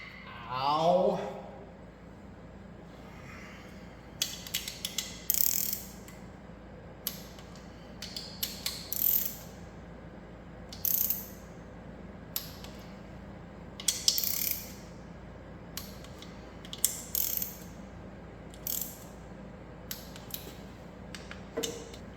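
A Snap-on Wobble Plus extension on a ratchet works a bolt on an Allis 190XT tractor, giving a run of short ratcheting clicks and metal clatter in scattered bursts, close by.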